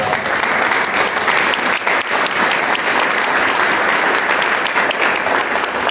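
Sustained, dense applause from an audience honoring Juan Gómez at an anniversary celebration for a philosophy journal, steady and loud throughout with no pauses.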